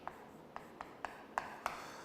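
Pen or pencil strokes on paper while working through a high-school math problem, about six short scratchy taps spaced roughly half a second apart, close and faint, with no talking.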